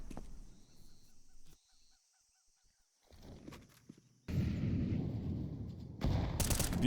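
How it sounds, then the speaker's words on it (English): AK rifle fire in a competitive shooter video game comes in short bursts with sharp cracks, separated by quieter stretches, then louder sustained game action and noise toward the end. "Beauty out of the AK"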